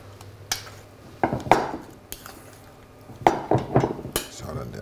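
Apples and celery mixed in a bowl for a Waldorf salad, with scattered utensil clinks and knocks against the bowl, close and intermittent, bunched into two busier bursts.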